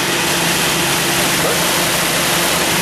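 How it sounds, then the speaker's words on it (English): Cold fuel-injected engine of a Jeep Scrambler idling high, a loud, steady, dense broadband roar with a low rumble underneath and no pauses, close by. "It's idled up a little high right now because it's cold, and it'll have to relearn"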